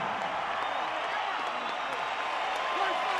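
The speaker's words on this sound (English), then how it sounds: "one last round of applause for a true Mexican boxing legend" Crowd at a boxing event applauding a Mexican boxing legend, a dense wash of clapping and cheering that runs steadily throughout, with an announcer's voice over it.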